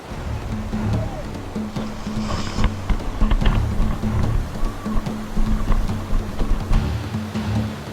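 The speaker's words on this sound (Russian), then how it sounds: "Сплав по ледяной реке с порогами и завалами." Rushing water from an icy river with rapids as boats and kayaks set off in a race, a steady churning roar with splashes and knocks, voices calling faintly under it.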